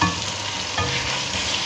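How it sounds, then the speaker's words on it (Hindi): Mixed vegetables sizzle in a hot pan with salt, stirred continuously, a steady close frying hiss with a brief scraping stir partway through. "इसको अच्छी तरह भूनती हूँ"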